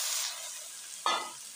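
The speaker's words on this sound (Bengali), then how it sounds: "আমার পেঁয়াজগুলো হালকা ভাজা হয়ে গেছে, এবার আমি চিকেনটা দিয়ে দিচ্ছি।" Raw chicken pieces hit lightly fried onions in a hot pan with a sudden loud sizzle that rises over a steady background hiss of frying, then slowly eases off.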